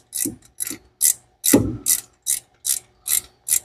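A hand ratchet driving a spark plug into a Mustang engine: about eight evenly spaced clicking bursts, loud and close, with no talking.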